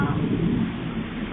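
Rain falls in a steady, dense hiss with a low rumbling undertone, continuous and fairly loud with no break or voices.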